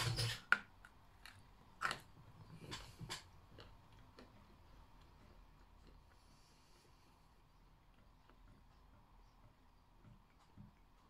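A hard French mint candy crunched between the teeth: a few sharp, loud cracks at the start, then softer intermittent crunching and faint clicks fading over several seconds, close to the microphone in a quiet room.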